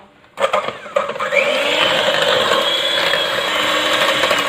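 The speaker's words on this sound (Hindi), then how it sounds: "अब इन सब चीज़ों को भी हम बीट कर लेंगे" Chicken pie filling mixture with shredded chicken being beaten by an electric mixer or blender, a loud steady whirring drone with a ratcheting edge that starts abruptly and runs without pause.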